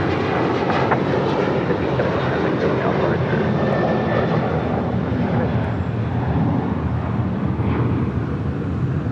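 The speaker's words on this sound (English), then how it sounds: "Next up, Delta Airlines Flight 1517 heading to Kansas City," Delta Airlines Boeing 737-800 jet at LAX heading to Kansas City, a steady dense engine rumble and roar, loud and constant throughout.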